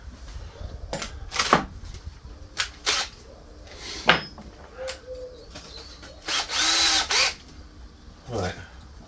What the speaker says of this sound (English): There's a drill.